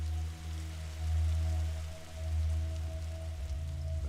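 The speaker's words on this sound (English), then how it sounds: "Is that rain?" Steady rain falls in The Signifier video game, a broad continuous patter over a low droning hum, with no voices present.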